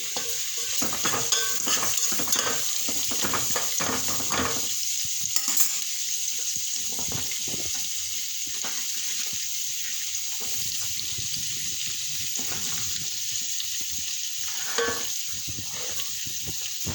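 Onions fry in a pan for chicken sukka, a bright continuous sizzle and crackle broken by frequent scraping stirs, nearby and steady throughout with no speech.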